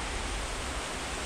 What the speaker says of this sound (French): vous allez avoir la vue de la cascade.